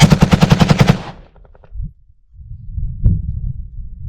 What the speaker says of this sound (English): That's a machine gun.